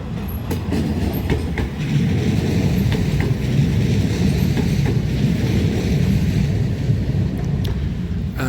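Tram points machine switching at the Bury Metrolink stop on Manchester's tram network, heard close up as a steady mechanical rumble with metallic clicks and clunks over continuous track noise, no talking.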